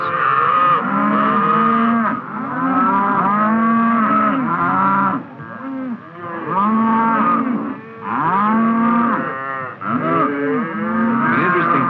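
Cattle on a ranch moo continuously, deep overlapping bellows from several cows mixed with higher calf calls as calves rejoin their mothers, loud and close, with only brief pauses.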